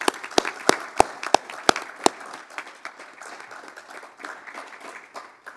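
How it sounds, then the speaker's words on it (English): A conference audience applauds its speakers, opening with several sharp, distinct claps close by, then blending into steadier clapping from the room that gradually thins and fades. "Can we just have one last final round of applause for our speakers"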